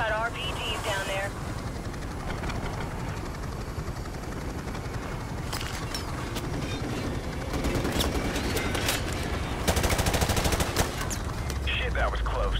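Rapid gunfire and machine-gun bursts from Call of Duty: Modern Warfare Remastered crackle steadily, growing denser and louder toward the end, while voices talk over radio-style chatter throughout.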